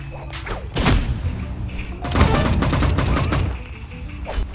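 Rapid energy pistol fire in a video game crackles through several close, loud bursts, with a sharp shot near the start and a longer sustained volley in the middle.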